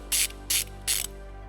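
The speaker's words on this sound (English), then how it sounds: "We're going to remove this nut using a 12mm socket." Ratchet wrench with a 12mm socket loosening the positive battery post nut on a 2015 Toyota RAV4, three quick close bursts of crisp clicking with brief pauses between.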